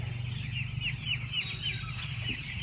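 Chickens cluck steadily on a village poultry farm, a dense flock of layered clucks and chatter close by, with a low steady hum running underneath.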